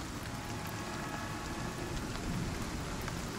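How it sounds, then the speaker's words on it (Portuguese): A storm in the survival game Icarus: dense, steady rain pours down with a continuous hiss, while faint low thunder rumbles underneath. "Pera aí que tá vindo a tempestade"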